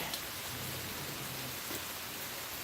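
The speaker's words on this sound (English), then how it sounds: "It's cold and rainy." Steady rain falls outside on a cold, wet day, a constant soft hiss of drops spread evenly through the whole stretch with no voices.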